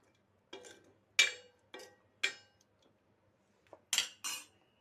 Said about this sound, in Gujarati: સારી રીતે હલાવશું